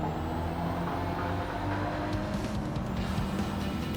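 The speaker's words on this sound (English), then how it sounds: "A bus." A bus engine drones steadily in the Gran Turismo 7 racing game, with a low continuous rumble and a brief hiss of air brakes, fairly faint and uninterrupted by speech.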